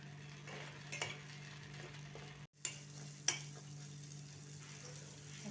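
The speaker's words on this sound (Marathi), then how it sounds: "हा मसाला अगोदर आपण भाजून घेतलेला आहे आता याला अजून तेल सुटेपर्यंत भाजून घ्यायचं" Masala roasting in oil in a pan for paneer butter masala, a faint, low sizzle with a steady hum, a few sharp spoon taps against the pan, and a brief drop to near silence midway.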